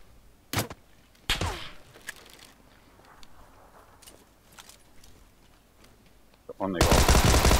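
Gunfire in a multiplayer shooter game: a few sharp isolated shots over quieter movement sounds, then a sudden loud sustained burst of rapid automatic fire at the end, close and harsh.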